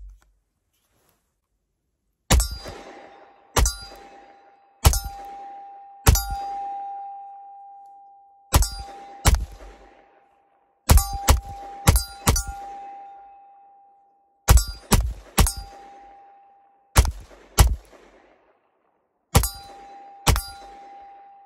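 Sig P320 pistol fired with a Pro Mag 17-round magazine, a string of sharp, loud reports spaced one to three seconds apart, some in quick doubles, each followed by a ringing tail over quiet pauses.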